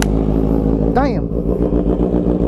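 A Honda CB650R motorcycle fitted with an all-carbon Austin Racing exhaust, idling loud and close with a steady throbbing burble, then a quick rising-and-falling throttle blip, with a voice speaking briefly over the engine.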